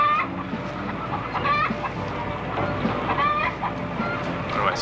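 Chickens cluck and squawk steadily in a barnyard or coop, several birds close by with overlapping, continuous calls and no one talking.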